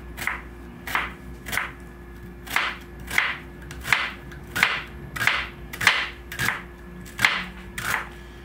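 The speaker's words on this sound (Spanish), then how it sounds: "Y vamos a hacer cortes finos." A knife slices an onion into thin julienne strips on a board, about a dozen crisp, evenly spaced chopping thuds close by, with no talking.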